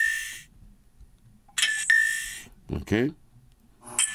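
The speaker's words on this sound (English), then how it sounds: "Now these are notifications. Not the ringtones, the note." A Nothing Phone (1) plays short electronic notification tones, bright chiming bursts separated by pauses and heard close up, with a brief spoken word between two of them.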